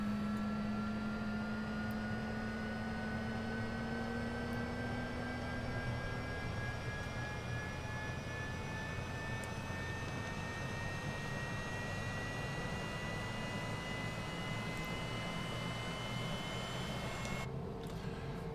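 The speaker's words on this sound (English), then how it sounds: "And there we got engine start." A Cessna Citation CJ4 jet engine in a flight simulator runs steadily just after start, a constant whining hum with rising tonal whistles over a broad rushing roar.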